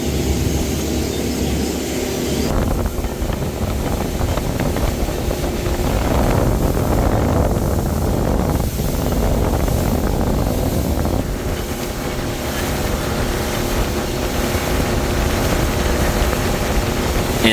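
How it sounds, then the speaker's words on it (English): A Suzuki 250 outboard motor hums steadily at moderate throttle under heavy wind and water rush on a bay, a continuous drone with shifting roar and no speech. "And that 250 Suzuki is humming, and we're not running it hard."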